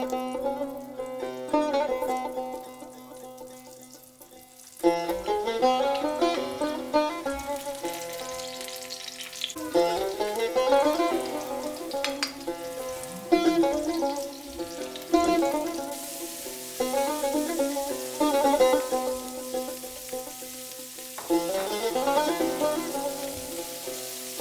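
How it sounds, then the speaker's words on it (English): Sliced eggplant and vegetables fry in a pan with a steady close sizzle and crackle, broken by stirring and shifting of the pieces, with no talking. "Now let's start by frying the vegetables."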